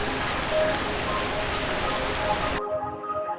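Steady heavy rain hisses and patters for a few seconds, then cuts off abruptly, leaving only a quiet background.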